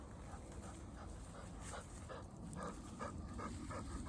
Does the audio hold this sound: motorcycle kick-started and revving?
no